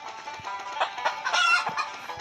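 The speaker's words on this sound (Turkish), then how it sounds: "Dokuz tavuk yakalayabildik arkadaşlar Ali Baba'ya." Cartoon chickens cluck in the Stick Man Party video game, a short run of bright, choppy clucks and squawks repeating over about two seconds, fairly loud and close with no talk over them.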